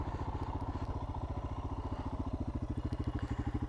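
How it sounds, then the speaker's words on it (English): A single-cylinder Royal Enfield Himalayan, a 2020 model, idles steadily with its exhaust thumping in an even, low pulse. It runs close and alone with no voices over it, and the beat grows slightly stronger toward the end. "I'm gonna stand still here to let you hear the exhaust a bit"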